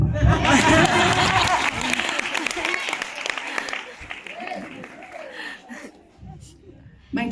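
Audience at an IAM WOMAN high tea event applauding, dense clapping loudest at first then thinning with crowd chatter and chuckles, a voice speaking over the fading applause.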